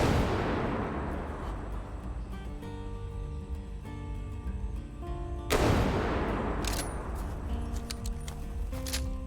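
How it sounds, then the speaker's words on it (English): Heavy .700 Nitro Express rifle shots fired at a T. rex in a video game, a couple of loud booming reports with ringing decay and a clatter of mechanical action between them. "Get as many shots into it as we can while it's running."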